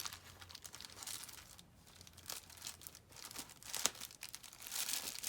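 Soft, close crinkling and rustling as a fabric cover on a bubble mailer is tucked in, with quiet irregular crumples throughout.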